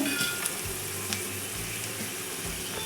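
Chillies, pepper and garam masala fry in a pan for a village-style egg sambar, producing a continuous, close crackling sizzle with some low knocks and stirring sounds.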